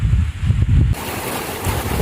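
Wind gusts buffet the microphone outdoors in cold weather near a watermelon field, a loud rumbling roar that gives way to a steadier, breathier rush of moving air with no one talking.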